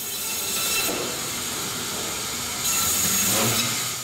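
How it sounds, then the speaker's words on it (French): A saw cuts through a frozen tuna in a fish-processing warehouse, taking the head off in quarters; two loud, rasping bursts of cutting stand out against a constant industrial roar, with no talking. "on coupe la tête du poisson à la scie en 3 quartiers"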